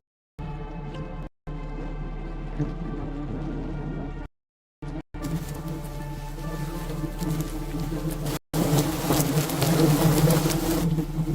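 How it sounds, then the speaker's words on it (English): A thick swarm of bees buzzes around a honey hunter on a cliff, a dense steady drone that grows louder and harsher toward the end, briefly broken by short gaps. "Despite the thick swarm of bees swarming all over him, the hunter remains incredibly calm, handling each step perfectly."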